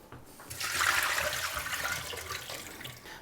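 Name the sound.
pouring soaking water off rice noodles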